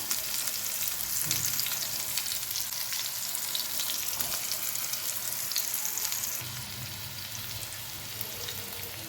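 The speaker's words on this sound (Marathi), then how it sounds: "आता सर्व बाजूला आपण फ्राय होऊन घेऊया" Stuffed karela, bitter gourds filled with spice masala, fry in a pan with a dense, continuous sizzle heard up close, softening slightly near the end as the heat settles, with occasional stirring.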